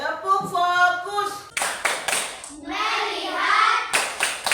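A school class plays the tepuk fokus rhythmic clapping game, with bursts of sharp clapping in patterned groups, several close together, alternating with children and a teacher chanting in unison between the claps.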